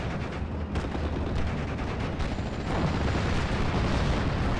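Tank guns firing in the WWII strategy game Steel Division: Normandy 44, an M22 light tank engaging a Panzer 35 in Normandy; dense, continuous booming gunfire and explosions fill the scene with no pauses.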